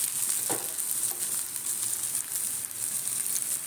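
Shrimp and chana dal fritters with coconut and coriander fry in a shallow layer of oil, giving a constant close sizzle and crackle with a soft stir or scrape early on.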